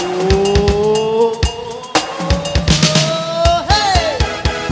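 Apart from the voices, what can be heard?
car driving with tires squealing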